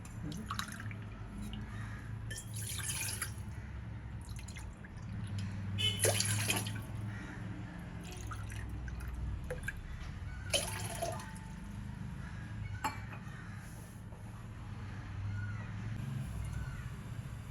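Water trickles and drips into a tea pot, a soft steady pour with occasional splashes against faint background hum.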